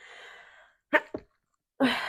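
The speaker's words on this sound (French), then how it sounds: "désolée, je vais éternuer" A single close sneeze with a sharp intake and burst, preceded by a soft breath and followed by a brief exhale.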